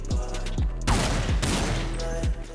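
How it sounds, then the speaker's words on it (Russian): Desert Eagle pistol firing on a Counter-Strike 1.6 deathmatch server, several sharp, loud gunshots in quick succession with a dense burst in the middle, under background game sound. "у нас появляется вот такой вот Дигл."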